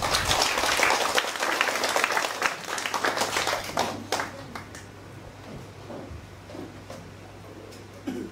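An audience at a book-donation event in Shaoguan applauds a speaker, starting as loud, dense clapping from a crowd and thinning into scattered individual claps that fade out, over a low steady hum.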